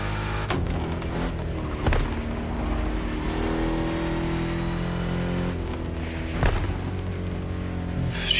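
Swapped car engine in The Crew Motorfest revving up and down, a loud continuous drone broken by a few sharp throttle blips and brief surges, heard alone without talk.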